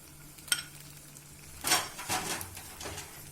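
Bread halwa with ghee, cashews and raisins being stirred in a pan: a sharp clink near the start, then a run of soft scraping, shuffling strokes with a faint sizzle, close and fairly quiet.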